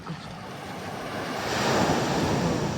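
Sea surf washes onto the shore on a morning beach walk, a close, rushing wave swelling to a peak and easing off, with wind buffeting the microphone throughout.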